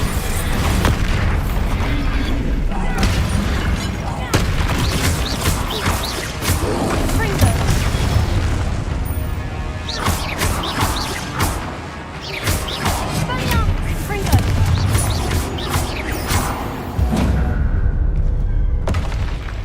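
Bombarda spell explosions in the Hogwarts Legacy video game go off in a series of loud, close booms and crashes spread unevenly across the stretch, with a dense layer of game noise and some voice beneath them.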